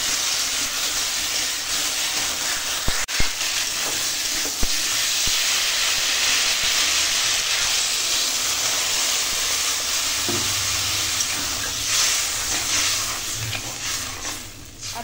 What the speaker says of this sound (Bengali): এবার জল দিয়ে দেবো, কেন কি আনাজটা সেদ্ধ করতে হবে।